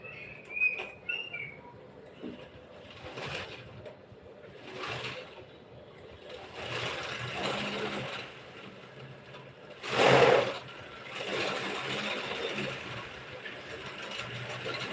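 A sewing machine runs steadily after its bobbin is threaded, a faint mechanical whir and clatter continuing in the background, with a louder burst of activity partway through and some small chirps early on.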